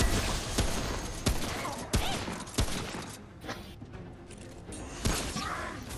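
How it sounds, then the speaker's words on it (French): Western carbine gunfire in the video game Remnant From The Ashes: several sharp, loud shots at uneven intervals, cracking over a busy game background of rumbling noise. "tu joues vraiment avec une carabine western"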